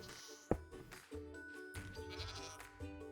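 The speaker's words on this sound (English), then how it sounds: "My absolutely awesome goats that just are so sweet and gentle." Goats in a farm enclosure inside a video game give a few bleats, a sharp close cry and then longer wavering calls, fairly quiet with brief gaps between them.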